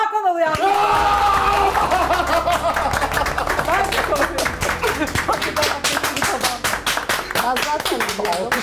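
Studio audience clapping on a Turkish cooking competition show as the weekly champion is announced, a steady run of sharp claps alongside cheering, laughter and voices talking throughout.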